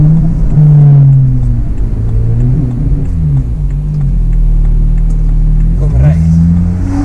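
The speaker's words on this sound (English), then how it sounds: "The car's not slow, it's not boosting what it should." A single-turbo BMW 335i engine revs loudly up close, its pitch rising and falling through several throttle blips over a steady idle rumble.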